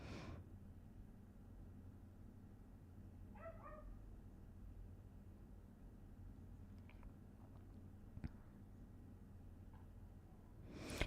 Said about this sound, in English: It's the neighbor's dog.